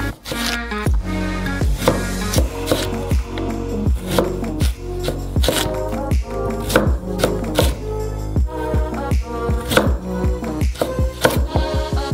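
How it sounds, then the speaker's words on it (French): A knife cuts a sweet potato into long strips on a board, making a steady run of crisp, close chops at a brisk, fairly even rhythm. "Allez, on le coupe également en longues tranches."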